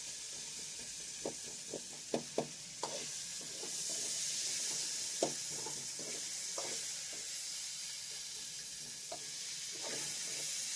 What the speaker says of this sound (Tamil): காயை நல்லா ஆயில வச்சு நல்லா வதக்கி விடுங்க.